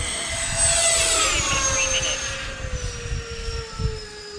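Radio-controlled Sukhoi model jet turbine, a discontinued model, flying a go-around: a loud, steady high-pitched whine whose tone glides downward as it sweeps past, over rumbling wind noise.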